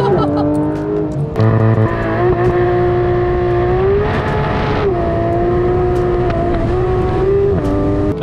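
Porsche GT3 RS on a race circuit, engine note rising and falling steadily as it drifts, loud and close throughout, with a voice speaking over the engine in places.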